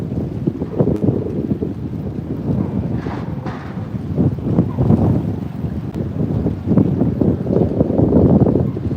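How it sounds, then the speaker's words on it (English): Strong wind blows outdoors during coastal flooding at Keyport, buffeting the microphone in a continuous low roar with gusts that rise and fall, and water and surf noise mixed in underneath, with no talking. "It's getting quite windy out here."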